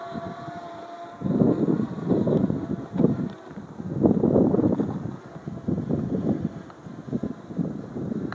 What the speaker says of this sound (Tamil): காற்று பலமாக இருக்குது பாருங்கள்.